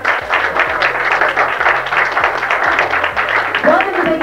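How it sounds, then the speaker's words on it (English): Crowd applause at a movie wrap party, a dense, steady wash of clapping held at an even level across the few seconds, with some speech mixed in over it. "Can we have a round of applause, please, for Mark Wahlberg?"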